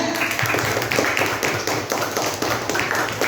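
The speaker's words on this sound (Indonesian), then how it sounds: "Beri tepuk tangan untuk kelompok 2" Classmates in a teacher-training classroom clap for a student group, a brisk, close patter of many hands with individual claps standing out, continuing throughout.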